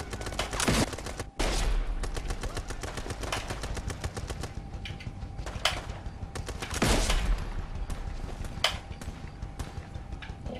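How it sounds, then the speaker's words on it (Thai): Sniper and other gunfire in the video game BIA3, dense and continuous with loud cracking shots and sustained bursts, heard without talk. "ซูมเข้าไปปุ๊บยิงปั๊บนะครับ"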